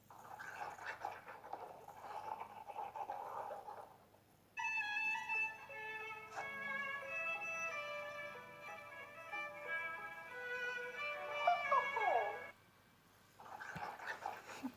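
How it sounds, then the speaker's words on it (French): A dog in a short clip lets out a run of long, high, wavering whines, close and fairly loud, lasting several seconds with no talking. "il y a un chien qui..."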